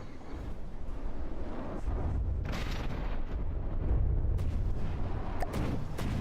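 Cram cannons fire in the naval combat game From the Depths, a continuous heavy rumble of booming artillery blasts with layered battle noise throughout.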